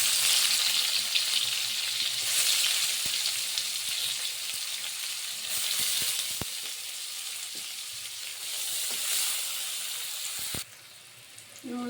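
Onion tempering crackling in hot oil for a mustard-poppy prawn dish, a loud, close, steady sizzle with a few stirring knocks that drops away abruptly near the end.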